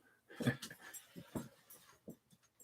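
A dog greeted during a home interview in Tacoma makes soft breathy whimpers, pants and small snuffling sounds, close and fairly faint, in short scattered bursts with no talking.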